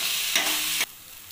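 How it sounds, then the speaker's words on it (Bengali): Potol seed paste is stirred with grated coconut in a hot frying wok: a loud, scraping sizzle of the spatula pushing the mixture around, lasting under a second before dropping to a quieter background hiss. "এবার ভালো করে নাড়িয়ে নেব নারকেলের সাথে ভালো করে এটাকে।"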